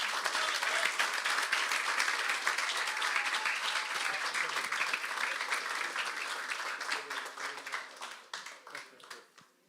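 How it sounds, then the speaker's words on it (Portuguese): Church congregation at a service applauding, a dense sustained clapping that fills the room, then thins into scattered individual claps and fades near the end. "E as palmas louvem ao Senhor Jesus Cristo."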